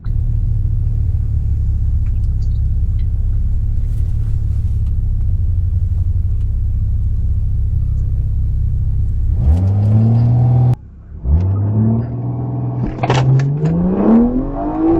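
A BMW 340i at a drag strip idles with a loud, steady low rumble, then revs hard in rising surges near the end, briefly cutting out between pulls.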